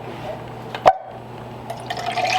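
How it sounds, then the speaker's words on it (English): Broth poured into empty bean cans in a home kitchen gives a brief liquid splash with a sharp metallic clink, followed by faint trickling and dribbling. "I'm going to do a few cups of broth, which I just pour a little bit into each one of these cans."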